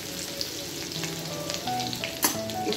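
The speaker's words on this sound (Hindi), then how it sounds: "इसे थोड़ा सा अदरक को भून लेते हैं अच्छे से।" Grated ginger and green chili frying in hot oil with cumin seeds make a close, continuous sizzle and crackle, with light stirring scrapes and a sharp spatter partway through.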